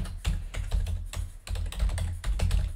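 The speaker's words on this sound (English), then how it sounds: "Just typing for the first one." Steady typing on a computer keyboard, a brisk run of loud, close key clicks in uneven bursts with short pauses, no voices.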